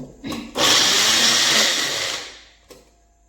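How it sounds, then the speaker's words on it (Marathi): A kitchen mixer grinder blends green chillies and garlic in one loud steady whirring burst that starts abruptly, holds for about two seconds, then winds down and stops, with no voices. "मिरची आणि लसूण मी मिक्सरला बारीक करून घेतला आहे"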